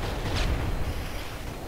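Gunfire crackles through a Call of Duty multiplayer firefight, a dense, low rumbling burst of shots at moderate loudness that trails off into steady background noise.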